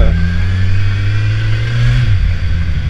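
A loud Kawasaki Z1000SX motorcycle engine revs and pulls hard, its pitch rising steadily before dropping off as the throttle eases near the end.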